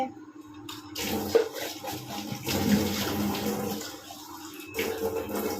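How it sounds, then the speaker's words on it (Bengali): Tap water runs steadily over plant roots being rinsed by hand, with splashing and shifting flow for several seconds after a brief quiet start. "একটুখানি শিকড়গুলোকে ধুয়ে নিচ্ছি।"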